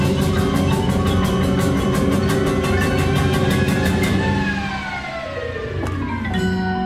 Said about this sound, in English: That air raid siren thing is just awesome.